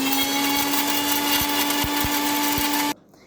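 An electric kitchen mixer grinder blends onion, green chili, curry leaves and salt in its jar, a loud steady whine for about three seconds with a few low thumps, then it cuts off abruptly.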